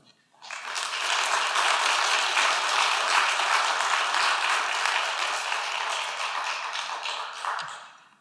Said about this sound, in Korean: 나오실 때 큰 격려의 박수를 올려드리겠습니다